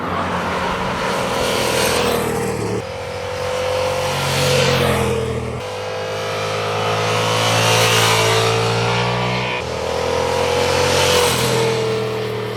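A naked-bike motorcycle engine revs hard through rising gears, pitch climbing then dropping at each shift, loud and sustained as the bike accelerates past.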